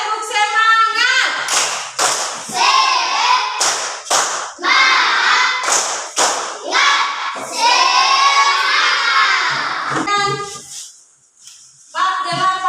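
Children performing the tepuk semangat clapping chant, with loud rhythmic group claps and thumps mixed with chanting voices and shouts, close and continuous, ending in a short lull.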